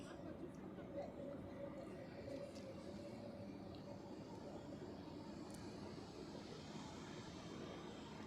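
Egypt Air airliner on its takeoff roll from runway 16 at Zurich Airport, a faint, steady distant engine roar with no clear peak.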